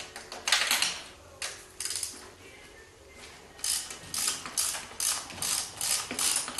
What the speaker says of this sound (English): A 3-inch extension gets you past the fuel pump so that you can get in there and actually turn your wrench.